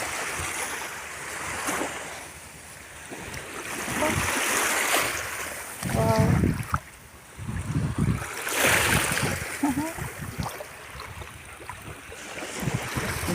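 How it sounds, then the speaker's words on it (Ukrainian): Waves wash onto a beach in Tuscany, Italy, in a broad, steady roar, with surges rising and falling and faint background voices. "Ось таке море. Меравільйозо маре."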